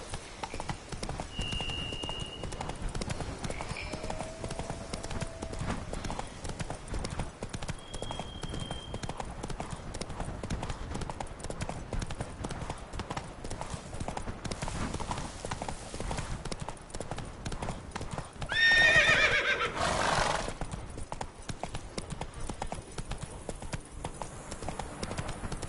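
Horse hooves clip-clopping at a steady gallop across open ground in Witcher 3, a continuous rhythmic drumming under faint ambient wind, with a brief louder burst near the end.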